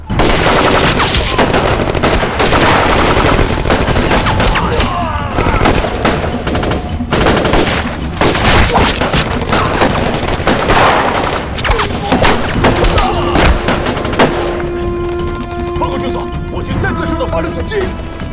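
A war film battle scene with rapid, dense machine-gun and rifle fire crackling almost nonstop, loud and close, mixed with heavier booms and soldiers shouting over the shooting.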